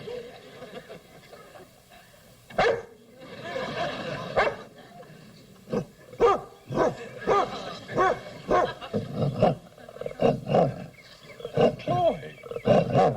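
A dog in a classic TV sitcom barks in a series of sharp, loud bursts against a backdrop of animal roars and growls, the barks growing more frequent toward the end.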